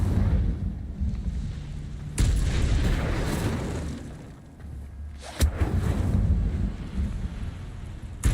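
Incendio fire spell cast in Hogwarts Legacy, heard as loud roaring whooshing bursts with sharp onsets, about three blasts of fiery rumble that sustain and fade, close and full over a wind-like background.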